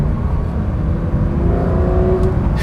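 A Porsche 911 GT3 RS engine drops a gear, its deep rumble steady and close with a slight shift in pitch partway through, and no voices over it.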